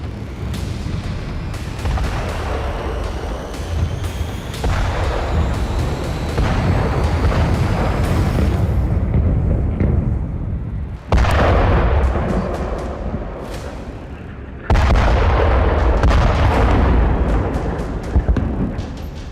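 Air strike explosions hit southern Gaza at night, heavy booming blasts rolling one after another with sharp new detonations bursting in partway through, loud and continuous with no voices.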